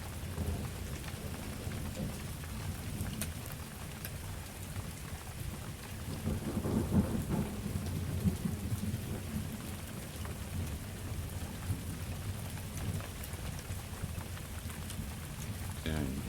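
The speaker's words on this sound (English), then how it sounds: "Whoa, getting windy. And rainy." A summer thunderstorm near Kuiper, California, in late afternoon, with steady heavy rain pattering on surfaces, gusting wind and a deep thunder rumble swelling in the middle, all continuous and close.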